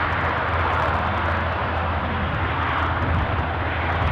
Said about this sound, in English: ATR zooming along in the background.